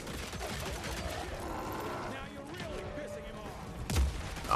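Gunfire in the action video game Evil West, rapid bursts of shots in a busy, cluttered mix with a sharper blast near the end.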